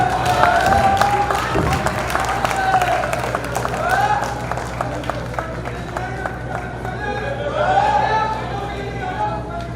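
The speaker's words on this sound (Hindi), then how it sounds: "आप अपनी तालियों से इस्तकबाल करें।" At a mushaira poetry gathering in Digras, an audience claps and cheers in a busy wash of applause, while a voice speaks over it and a musical tone wavers through the room.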